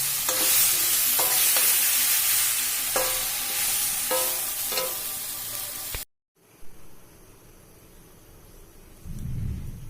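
Mango pickle being stirred and turned over in a pan, a series of scraping strokes with light sizzling for about six seconds, then a brief silence followed by quieter low rumbling.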